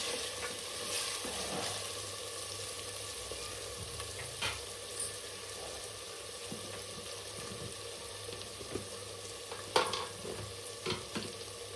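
Ginger and garlic fry in oil in a pan for an eggplant and potato curry, a soft continuous sizzle with occasional clinks and scrapes of stirring, quiet and close.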